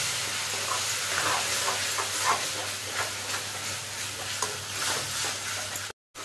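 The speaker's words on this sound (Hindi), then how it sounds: "नमक डालेंगे स्वाद अनुसार इसको अच्छे से मिक्स करेंगे और टमाटर और मसाले को अच्छे से भूनेंगे" Tomatoes and spices fry in a kadhai while salt is stirred in, giving a continuous loud sizzle and hiss close by, with occasional scraping stirs and a brief drop out near the end.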